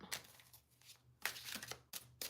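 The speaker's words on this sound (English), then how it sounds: "I'm gonna give it a couple more shuffle." Cards being shuffled up close, several quick riffling bursts separated by brief pauses, quiet and without talk.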